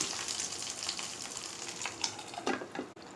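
A steady, hissing sizzle from hot tempering poured into foxtail millet pongal in a bowl, fairly close and continuous, with a few brief clinks and no voices.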